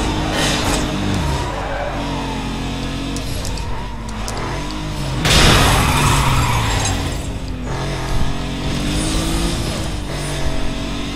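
Car braking hard with a loud skid in the racing video game Need for Speed Most Wanted, the engine roaring steadily throughout and a strong tire screech swelling at mid-clip.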